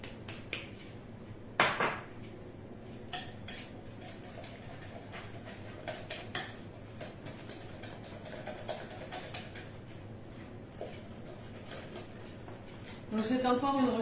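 Metal spoon mixing eggs and flour in a bowl for a crustless endive and bacon quiche, heard as steady rapid clinking and tapping against the bowl, close and moderately loud, with someone talking over it throughout.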